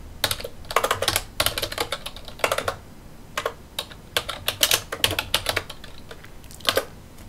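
Steady typing on a computer keyboard, close and clear, in rapid clustered bursts of keystrokes separated by brief pauses, with no talking over it.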